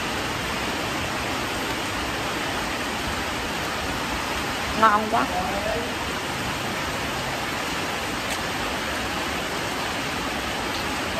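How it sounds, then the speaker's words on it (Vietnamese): Heavy rain pours down in a dense, unbroken hiss that stays loud and steady throughout, with a brief spoken remark near the middle. "Mưa lớn quá."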